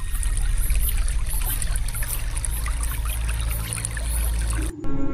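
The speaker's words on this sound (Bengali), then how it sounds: "চারপাশে শুধু জলের ঢেউয়ের শব্দ।" Water laps and washes continuously at a fog-bound riverbank ferry landing, a loud, close, unbroken liquid rush that cuts off abruptly just before the end.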